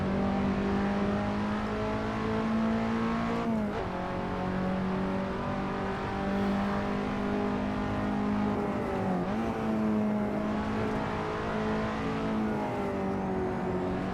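A KTM X-Bow race car drives the Silverstone GP circuit in a racing video game. Its engine gives a steady, close drone with brief dips in pitch as the throttle lifts or it shifts gear.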